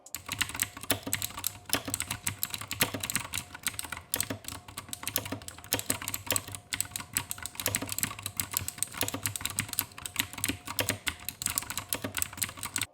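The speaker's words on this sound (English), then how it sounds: "for those who actually care about how they sound, here's a little sample." Fast, continuous typing on a Razer BlackWidow X Chroma mechanical keyboard, close and crisp, with dense clacking keystrokes and no pauses for the whole stretch.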